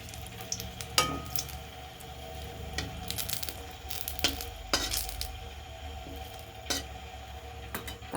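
A bay leaf and dried chili sizzling in hot oil in a pan, a steady frying hiss with occasional sharp clinks of a utensil against the pot, close and without talk.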